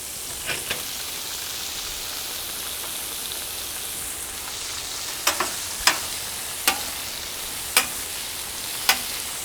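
Shrimp cook hot on a Solo Stove SteelFire griddle, a steady hiss of sizzling with a few sharp scrapes or clicks toward the end.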